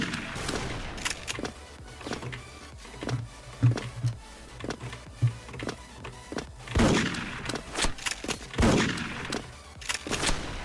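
Gunfire in the online shooter Special Force: bursts of rapid shots and single cracks scattered across the stretch, some close and loud, others fainter, with no voices.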